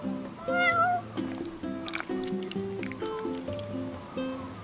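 A cat meows in Final Fantasy XV, a rising, wavering cry early on, heard over game music with steady tonal notes and a few soft clicks.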